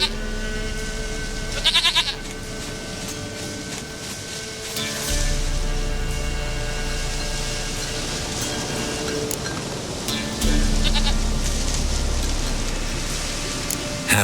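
In The Witcher 3: Wild Hunt, a goat lets out a few brief, quavering bleats spread apart, fairly close but partly buried under steady game ambience and music, with no voices.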